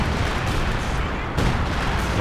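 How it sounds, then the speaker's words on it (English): Artillery barrage in the real-time strategy game Company of Heroes 2 during a 2v2 match, a dense rumbling mix of booming impacts and shots, loud and continuous over a couple of seconds. "The major artillery, I think."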